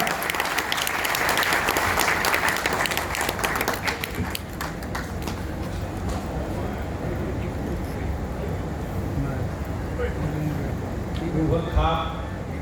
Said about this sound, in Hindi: जोरदार तालियों के साथ आप सभी स्वागत करेंगे